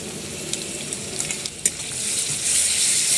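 Ginger garlic paste frying with chopped onions and whole spices in a pan, a bright hissing sizzle that swells louder toward the end, with a few light stirring taps, close up.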